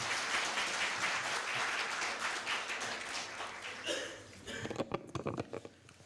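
Full audience applause at a Korea University law school evening event, a dense, sustained wash of clapping that begins to break up near the end into a few separate, louder claps before dying away.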